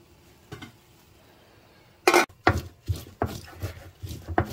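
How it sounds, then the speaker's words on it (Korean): Glass noodles (dangmyeon) for kimchi dumplings are chopped on a board. After a quiet start come a sharp first strike and then a run of roughly even, close knife thuds. "당면을 썰고 있어요."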